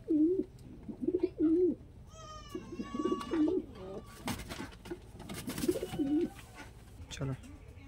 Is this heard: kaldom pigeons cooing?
yes